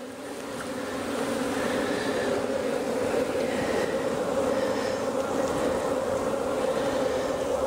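Honeybees from an opened hive, with small clusters on the ground near stuck frames, make a steady dense buzzing drone that stays loud and continuous throughout, rising slightly at the start and holding level, with no talk.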